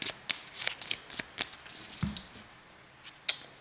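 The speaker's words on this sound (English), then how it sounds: "And we shuffle the draw pile." A deck of game cards for a solo wargame on the Kharkov battle is shuffled by hand, a quick burst of crisp riffling snaps followed by a few softer taps as the cards settle.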